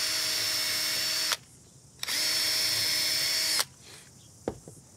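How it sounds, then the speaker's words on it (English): A power drill pre-drills the ends of a wooden gate, boring in about 20 millimetres: two sustained whining bursts of roughly a second and a half each, separated by a short pause, then a faint tap near the end. No talking. "let's just pre-drill our ends"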